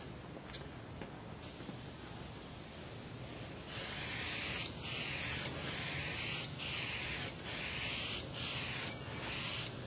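Spray paint goes onto the yellow tail numbers of a P-47 model plane in a run of short, even hissing bursts, close and loud, after a quieter stretch of room noise.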